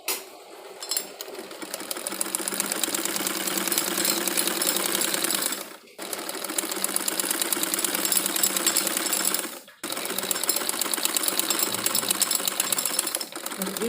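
Close-up sewing machine stitches along the cuff edge of a salwar, humming continuously in long runs broken by two brief pauses.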